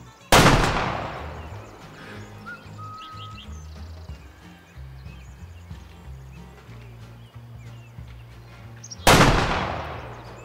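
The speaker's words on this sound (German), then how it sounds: "ob wir mit der Remington 270 auch auf Maultierhirsche aus 150 Meter Entfernung schießen dürfen" A Remington .270 rifle fires at mule deer in the hunting game Way of the Hunter. Two loud, sharp shots land about nine seconds apart, each with a decaying echo, and a quiet outdoor ambience fills the gap between them.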